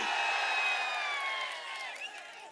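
Large crowd at an election rally in Tiruvarur, a dense continuous roar of cheering and shouting that fades slightly toward the end, with whistles riding over it.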